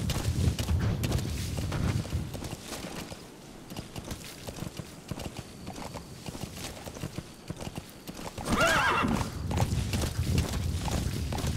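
Horse hooves gallop in Metal Gear Solid V: The Phantom Pain, a rapid, steady clip-clop close by, with a brief louder scrape and jolt near the end as the horse bumps into rock.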